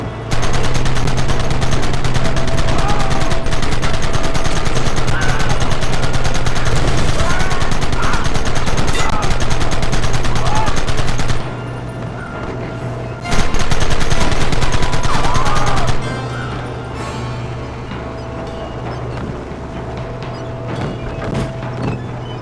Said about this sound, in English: Kill those bastards! Gun them down!